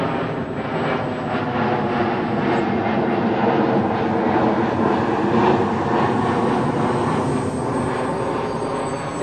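HobbyKing Extra 260 RC model airplane flying on its maiden flight, giving a steady, loud engine drone that holds through the whole stretch with a slight jet-like whine.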